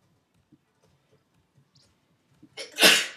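A single loud sneeze from a person near a microphone, preceded by faint small clicks and breaths in a quiet room.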